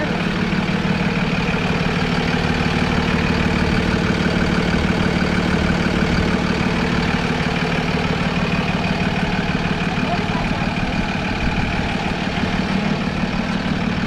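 A public works truck's large rear auxiliary engine, behind a radiator, idles steadily nearby, a continuous low rumble with a mechanical hum that holds even throughout.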